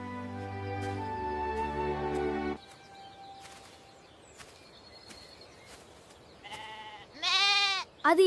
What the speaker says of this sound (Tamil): அது என் ஆட்டுக்குட்டியின் குரல்.